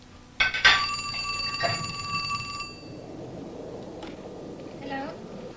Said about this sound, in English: Mary Meredith of Oklahoma City recreates the night she purportedly received a phone call from the dead.